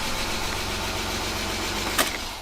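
An old BMW E36 engine, its oil long unchanged, idles steadily with an even, close mechanical rumble and a brief sharp click near the end.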